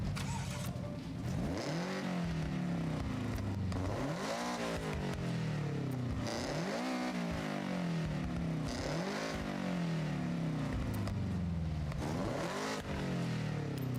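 A car engine in Forza Horizon 6 revs up and falls back over and over in steady rising sweeps, loud and close, with a mechanical whine layered over the throaty drone and no voices.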